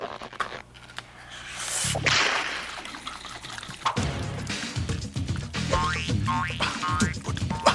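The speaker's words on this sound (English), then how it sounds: "And then you start shaking it." Whipping cream sloshes and thuds inside a jar being shaken by hand to make butter, uneven bursts of liquid knocking and splashing that grow busier toward the end, close and fairly loud.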